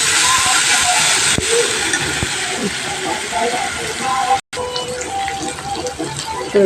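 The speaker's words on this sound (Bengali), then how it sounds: "সেই সব তেল দিয়ে নেব একটু ভাজি করে নেব" Home-raised country chicken fries in a little mustard oil, a steady loud hiss and sizzle running without a break and cut by one brief pause.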